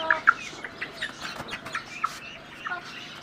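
Native country chickens and their chicks at a village market give close, irregular clucks and sharp little chirps over a quiet background.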